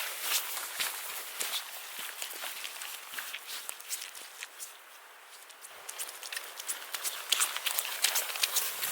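Quick footsteps jog over ground outdoors on a rainy day, a steady run of soft, close treads with light patter behind them.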